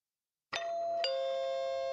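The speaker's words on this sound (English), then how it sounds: "Ah, the sound of my doorbell." A two-tone ding-dong doorbell rings once, the clear chime notes ringing on and sustaining in an otherwise quiet room.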